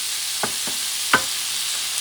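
Paella ingredients being stirred in a frying pan: a steady sizzle with a few distinct scrapes of a utensil against the pan, with no voices.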